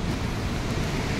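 A strong waterfall pours over a rocky mountain trail to Gaumukh near Gangotri in Uttarakhand, with a loud, continuous roar of rushing water and no voices.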